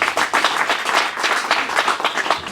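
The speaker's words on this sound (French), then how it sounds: "Applaudissez pour elle." Applause from an audience at a women's rights month closing ceremony, a steady wash of many hands clapping at moderate level throughout, with no clear speech over it.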